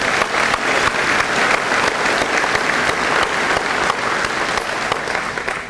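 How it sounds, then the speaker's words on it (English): Sustained, loud applause from a crowd at a community mayors' breakfast, dense even clapping that holds steady throughout before easing slightly at the end. "they deserve a round of applause as well"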